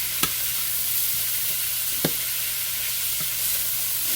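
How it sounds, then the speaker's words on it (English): About a pound of green beans, some French cut, frying in a small pan, a steady close sizzle with a few sharp taps of a utensil against the pan, no talking. "So we'll have a little green bean stir fry thing going on here"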